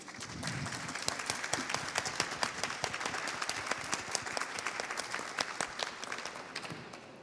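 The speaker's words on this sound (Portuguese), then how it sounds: "pedir para todo mundo uma salva de palmas para a Conceição Evaristo" Audience applause at a cultural event for Conceição Evaristo, sustained crowd clapping with sharp, dense claps throughout, fairly loud and steady before easing slightly at the end.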